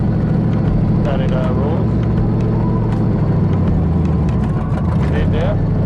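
A Ford 5.0 V8 swapped into a car idles steadily and loudly close by, a continuous engine rumble with a voice speaking briefly over it.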